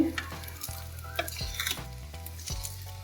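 Batata poha with lemon juice being stirred in a pan, a soft sizzle under repeated scraping and knocking of the spoon against the metal, close by with no voices.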